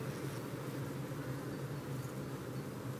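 Honeybees near two mobile phones make a dense, continuous buzzing drone, close and steady with no pauses.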